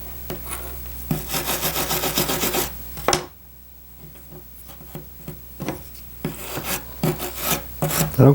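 A blade scrapes and rasps away excess hardened epoxy from a block in repeated close bursts of gritty rubbing, separated by short pauses and a few sharp ticks.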